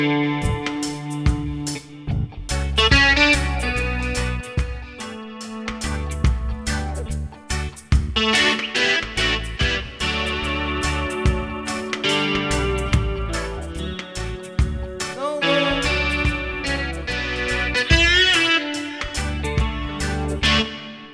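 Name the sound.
Yamaha Tyros 5 keyboard guitar sound with DSP distortion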